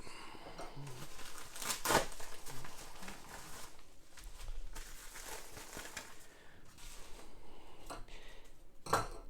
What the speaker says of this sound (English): I'm going to use my knife to open it up